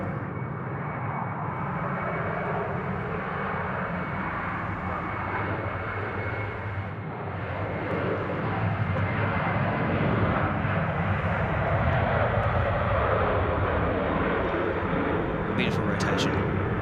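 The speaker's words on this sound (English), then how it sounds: "The A330 now off to Auckland, runway 34 right" An Airbus A330 takes off from Sydney Airport runway 34 right bound for Auckland, a broad, continuous jet roar that builds gradually in loudness, with people talking faintly beneath it.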